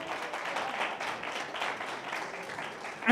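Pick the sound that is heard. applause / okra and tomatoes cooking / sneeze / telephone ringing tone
applause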